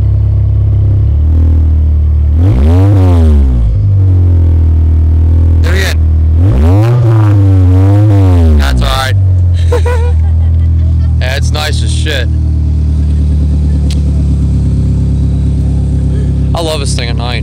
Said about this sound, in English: Hit the gas just a little bit.